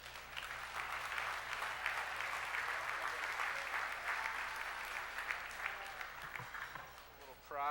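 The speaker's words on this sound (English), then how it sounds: "How about a nice round of applause, please, for Mr. Cash Warren." An audience at a sports awards gala applauds an honoree with sustained clapping from a large crowd, holding steady and then tapering near the end as a voice begins to speak.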